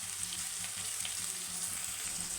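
Onions, cumin seeds and curry leaves frying in hot oil in a pan make a steady, close sizzle with faint stirring underneath, continuous and alone.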